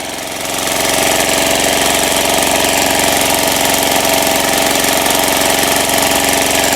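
An old walk-behind tractor engine, revved hard while tilling a garden plot for garlic planting, runs loud, close and steady with a rough, knocking drone throughout.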